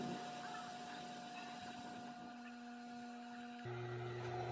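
A hot air blower runs steadily while drying the moisture-affected board of a Samsung A52 phone, giving a continuous whirring drone with a steady tonal hum that shifts pitch near the end as the airflow changes.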